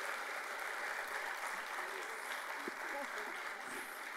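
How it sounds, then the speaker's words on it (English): Audience applause for a panel of senior cyber leaders, a steady dense wash of clapping from a crowd that continues evenly throughout. "round of applause for the distinguished panel members"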